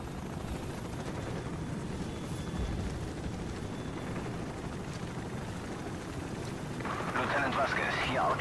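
A military helicopter flies in Call of Duty 4: Modern Warfare, its rotor making a steady droning thrum under game noise, with a burst of sound near the end.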